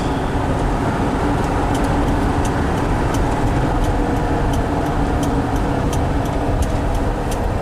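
A 1974 Volkswagen Westfalia van with an automatic transmission drives and turns, its engine a steady, loud drone over road rumble with light ticking, close and continuous, no talk.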